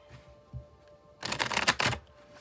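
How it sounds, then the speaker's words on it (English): A tarot card deck being shuffled, a dense riffling burst of about a second after a quiet lead-in, close and fairly loud. "We'll shuffle till the deck feels ready, then we'll cut."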